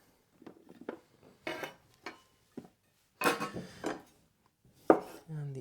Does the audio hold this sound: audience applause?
no